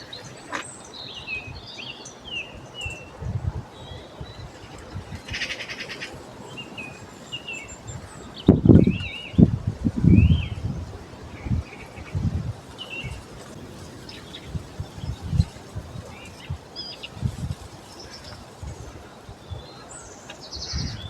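Birds chirp and call outdoors during a dog walk, with scattered high tweets and short phrases over faint background noise, plus several louder low thumps and rustles from the walk.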